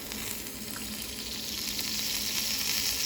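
Sucuk and cheese toast sizzling inside a toaster, a steady close crackling hiss that swells slightly louder toward the end, with no voices.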